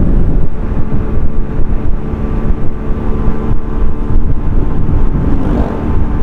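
Honda CD 70 motorcycle fitted with a Honda CG 125 sprocket set, riding in third gear at around 90 km/h: a loud, steady engine drone with a slight waver and heavy wind rush, no talk.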